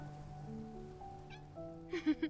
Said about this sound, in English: It's the kitten from before.